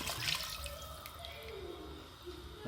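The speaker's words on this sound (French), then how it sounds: "je vais venir rajouter l'eau à hauteur" Water poured into a pressure cooker while preparing harira, a quiet close trickle and splash running continuously for a few seconds.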